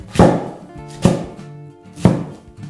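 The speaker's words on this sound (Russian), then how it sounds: "Сейчас каждый подойдет и порубит." Three sharp, loud knife chops strike filling in a wooden trough for perepechi, evenly spaced about a second apart with short ringing decay and no talk.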